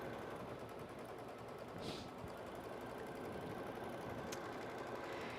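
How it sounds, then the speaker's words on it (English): Sewing machine running a tacking stitch on fabric for a star-shaped holiday ornament gives a continuous, dense mechanical rattle at a steady rate, heard close with no speech. "So now we are running the second step for our back panel, and this is the tacking stitch for our fabric."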